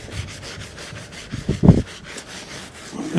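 A brush scrubbing the crispy, rusty underside of a VW Crafter camper van, giving close, rough rasping strokes in an uneven rhythm with one louder scrape midway.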